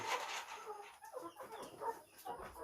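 Chickens cluck and murmur softly nearby in a roomy coop, a faint, continuous run of overlapping clucks with no talking.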